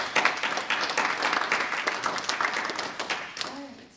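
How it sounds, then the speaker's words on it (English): An audience at a Phi Theta Kappa spring induction and awards ceremony breaks into dense, sustained applause that gradually fades out, with some voices mixed in near the end. "So, give yourselves a round of applause."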